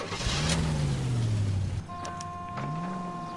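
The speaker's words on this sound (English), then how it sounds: "Oh, got a little car chase." A car engine roars and revs with rising and falling pitch during a car chase in the video game L.A. Noire, loud and close, before easing into a lower drone with faint tones above it.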